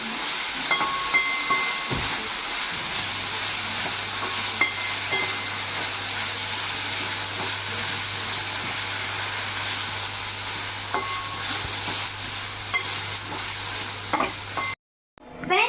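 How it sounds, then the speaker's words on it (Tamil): Curry leaves sautéed in hot oil and stirred with a ladle for country chicken kuzhambu, giving a steady loud sizzle and hiss with scattered scraping clinks of the ladle, close and continuous, cutting off near the end. "இப்போ நம்ம நல்லா கரண்டி வச்சு வதக்கி விட்டுக்கலாம்"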